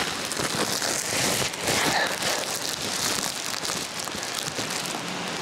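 Steady rain patters and hisses across a surface, a dense, even wash of drops with no voices.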